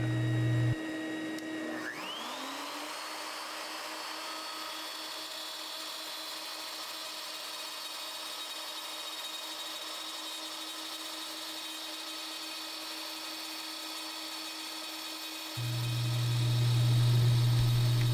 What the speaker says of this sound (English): use a gauge bar to set the router plunge depth. Push off the wood, depth the cutter, then make the cut.